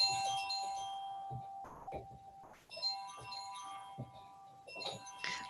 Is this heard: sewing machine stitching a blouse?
no